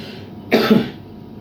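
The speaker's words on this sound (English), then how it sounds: "Sorry, bad cough." A single harsh cough close by, brief and loud, against a quiet background.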